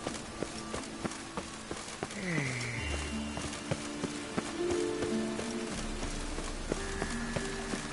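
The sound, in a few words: rain in a PS4 video game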